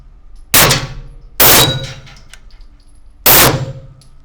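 Canik TP9SA 9 mm pistol firing three loud, close shots with sharp metallic cracks and short ringing tails, the first two about a second apart and the third after a longer pause.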